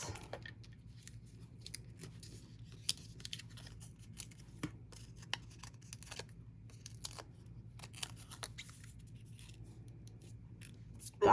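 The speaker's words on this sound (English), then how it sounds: "I want to trim this a little bit" Scissors trim a piece of paper card for a stamped Halloween card, giving a run of soft, quiet snips and faint papery scrapes, spaced irregularly over a low background hum.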